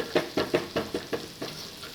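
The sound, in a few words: garlic frying in a pan until browned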